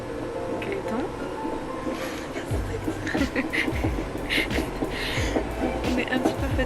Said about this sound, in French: Ça fait au moins 2 heures qu'on est dans le train.